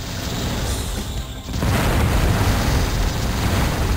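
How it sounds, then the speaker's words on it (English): A missile fired in the video game Descent explodes with a loud, broad booming blast that swells after a brief dip and rumbles on steadily to the end. "There, I used the missile."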